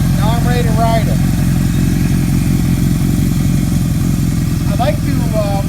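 A 1978 Kawasaki KZ1000 "Black Gold" motorcycle idles up close, its engine running loud and even throughout, with a voice speaking briefly over it near the start and again near the end.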